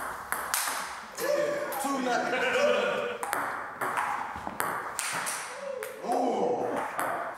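Table tennis: quick, sharp pings as a ping pong ball is struck back and forth in an irregular rally, close by, with people talking over the hits.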